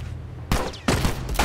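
Gunfire in The Last of Us: three loud, close bursts of shots in quick succession, each sharp onset trailing off briefly before the next.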